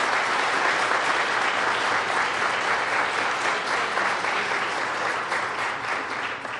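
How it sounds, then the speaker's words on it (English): Sustained, dense applause from an audience at a women's equality event in Seneca Falls, loud and steady throughout with no break or speech over it. "Let's give her another round of applause, Mylan Dennerstein."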